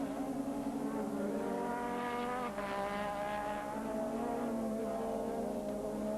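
Formula 1 race cars from 1986 at the Austrian Grand Prix, their engines a steady, loud high-pitched scream that holds throughout with a slight rise in pitch midway, no talk over it.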